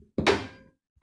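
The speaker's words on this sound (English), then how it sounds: "Close the door" A car door swings shut with a single solid thunk, close and fairly loud, followed by a short fading resonance and then near silence.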